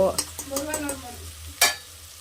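Rice grains fry and get stirred in a pan, giving a soft sizzle with scraping strokes and a sharp clatter of the spoon near the end, with no talk.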